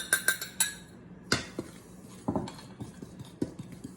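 A spoon clinks and scrapes against a bowl while cocoa powder is mixed into flour, a few quick taps followed by scattered softer knocks, close and fairly quiet with no talking.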